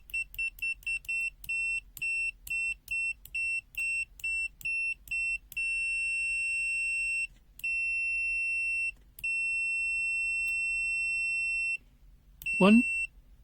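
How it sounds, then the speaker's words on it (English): A BSIDE A5 multimeter in continuity mode sounds its buzzer in a run of short rapid beeps, then longer sustained tones with brief gaps, loud and close, with a quick sweep-like noise near the end. "Now is a manual mode continuity mode. They have a buzzer come out in the corner."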